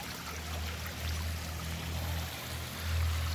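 Water trickles steadily over rocks in a small garden waterfall on a level surface, a soft continuous rushing with a low burble, with no voices over it.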